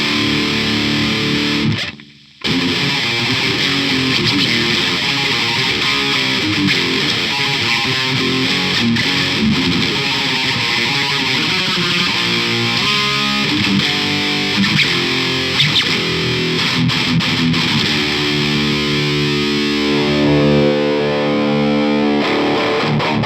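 Heavily distorted electric guitar through a modded Orange Micro Dark small amp plays chugging riffs and sustained chords, loud and gritty, with one brief drop to silence early on.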